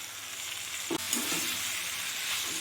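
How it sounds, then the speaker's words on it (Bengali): Fried okra and potatoes hit a pan of sizzling spice paste, giving a brief close frying hiss with one sharp stirring clack. "ভেজে রাখা ঢ্যাঁড়স আর আলু আমি দিয়ে দেব।"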